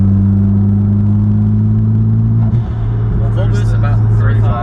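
A tuned Mitsubishi Evolution X with a bigger turbo pulls in fifth gear from around 3,000 RPM, giving a loud, steady in-cabin engine drone as people talk over it.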